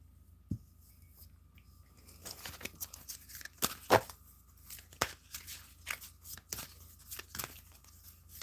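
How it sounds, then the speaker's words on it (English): Angel tarot cards are shuffled up close, giving soft riffling and flicking bursts with small papery snaps, irregular and intermittent over quiet room tone. "Okay, so let me just shuffle for a moment."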